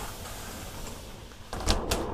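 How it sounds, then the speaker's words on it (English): A retractable shower door in a small travel trailer slides along its track, making a short rustling, rattling burst near the end after quiet room tone. "It has a step up from a shower curtain, which is this retractable shower door."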